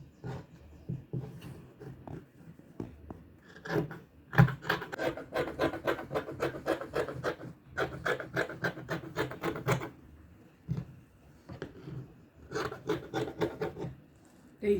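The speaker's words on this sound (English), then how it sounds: "We have to cut it out. So we are cutting it out." Scissors cut fabric for a straight gown in a fashion design workroom, with long runs of quick, rhythmic rasping snips broken by brief pauses. The cutting is close and steady.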